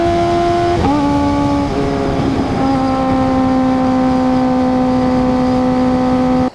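A loud, close ZX-4RR motorcycle engine with dull, inconsistent throttle response drones steadily, its pitch dipping and shifting a few times early on before settling into a sustained, even roar.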